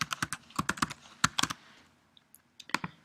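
Fingers tapping out a password on a computer keyboard: quick, close clicking keystrokes in a brisk run, a short pause, then a few more taps.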